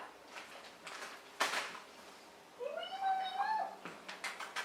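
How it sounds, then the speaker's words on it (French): A pet cat meows close by in a quiet room, one drawn-out rising and falling meow in the middle, with soft rustles and faint handling noises before and after. "Qu'en penses-tu mon chat?"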